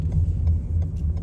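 Interior of a 2015 hybrid car running silently on battery power in EV mode, with no engine running: a low steady road rumble with faint ticking clicks, no voices.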